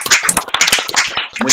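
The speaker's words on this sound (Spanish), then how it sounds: "le podamos dar un gran aplauso de agradecimiento a Doris por compartir su experiencia con todos nosotros" Online audience clapping for Doris after she shares her housing-rights experience, a loose scattering of claps and taps close to the microphone, uneven and overlapping, with a brief pause near the end.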